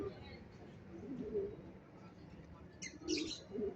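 Pigeons perched on the roof of a covered court coo softly and chirp at a distance, faint and intermittent beneath people talking nearby.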